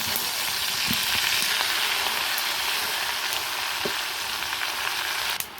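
Freshly picked mixed village greens hit a hot pan with garlic, onion, green chilies, tomato and salt, a loud, dense, continuous sizzle with faint stirring scrapes and a clack at the end.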